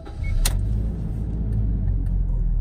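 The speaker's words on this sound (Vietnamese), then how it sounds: "nghe thấy tiếng máy nổ rất êm luôn ạ" A used 2013 Toyota Innova E engine idles smoothly with a steady, close, low rumble after a brief click near the start, and no one speaks.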